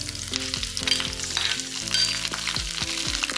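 Garlic, pandan, curry leaves and cinnamon bark fry in hot oil for fried rice, giving a dense, continuous crackling sizzle with no voices over it.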